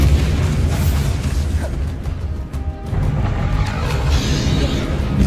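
The Bombarda blast spell in the Hogwarts Legacy video game sets off loud, rumbling explosive booms that roll on almost continuously, dipping briefly midway before surging again, heavy and close.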